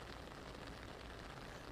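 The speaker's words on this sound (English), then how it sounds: "right before I went on, it started to rain" Steady rain falling outdoors at a spray park, a dense, even patter of drops that continues without a break, faint in level.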